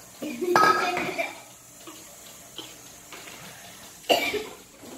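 A few sharp coughs, with the clink and scrape of pans and utensils in a kitchen between them.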